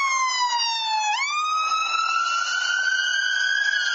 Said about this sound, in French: le bruit de la sirène de l'ambulance